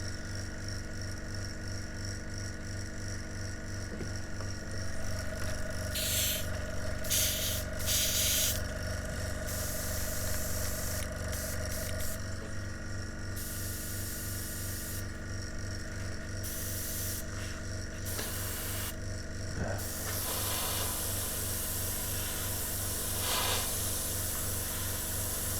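An airbrush spraying paint onto paper to build a soft overspray fade, a continuous faint hiss that cuts in and out in short bursts over a low steady compressor hum.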